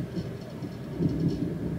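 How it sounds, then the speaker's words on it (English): Thunder before a storm, a low rumble that swells and rolls on through the stretch, heard from indoors at moderate volume with no speech over it. "That is thunder."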